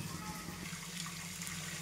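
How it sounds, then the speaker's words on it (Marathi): Water pouring into onion masala in a pan, a continuous close rushing splash with a low bubbling undertone lasting the whole moment, no talking. "हे बघा त्याच्यामध्ये पाणी घालून घ्यायचं"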